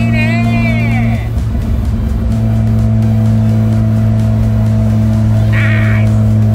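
Mazda RX-7 rotary engine holds a steady drone at around 5000 rpm after a downshift, heard from inside the car under constant road and drivetrain noise, with brief squeaky chirps near the start and end.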